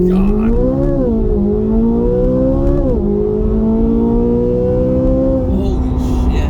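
A Corvette C8 Z06 with the Z07 carbon fiber package accelerates hard from a standstill, its engine note climbing loud and close through rising pitch with a brief drop at a gear change before pulling on.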